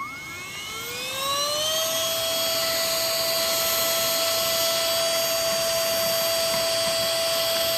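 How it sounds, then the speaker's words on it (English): A vacuum cleaner runs steadily and loudly while cleaning the interior of a Tesla Model 3, spinning up with a rising whine over the first second before holding a constant high-pitched drone with no talking. "Let me get my vacuum right now."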